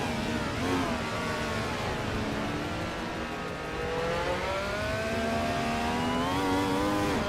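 A 2000 Ferrari F333P LMP 900 prototype race car in a racing game, its engine droning and revving continuously with rising and falling pitch as it shifts, loud and close throughout.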